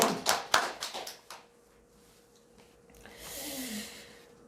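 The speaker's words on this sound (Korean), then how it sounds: "하나님께 영광의 박수." A church congregation applauds during a Sunday service: a burst of clapping up front that quickly thins and fades, leaving a quiet room with faint murmuring noise afterward.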